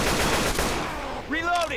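Dense gunfire in Left 4 Dead 2 aimed at the Tank during the Dark Blood 2 finale, loud and continuous rapid shots that end with a brief shouted voice over the shooting.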